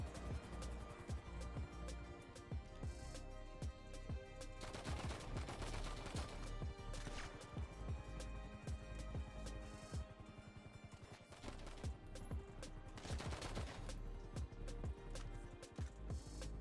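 Video game gunfire during a shootout with police, with repeated sharp shots and rapid bursts scattered throughout over a steady musical background, fairly quiet overall.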